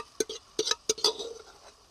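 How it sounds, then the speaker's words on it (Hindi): A spoon stirs mustard greens (saag) with coriander powder and garam masala in a pan, Pahadi style, giving a few sharp clinks and scrapes against the metal, separated by short pauses and set close up. "साग को हम मसाले के साथ अच्छे से मिक्स कर लेंगे।"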